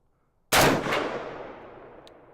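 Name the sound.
gun fired at steel armor target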